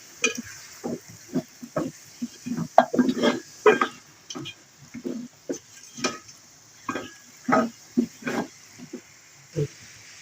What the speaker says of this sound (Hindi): अब इसमें हम ऐड कर देंगे नमक और नमक के साथ भी इसको अच्छा सा भूनेंगे।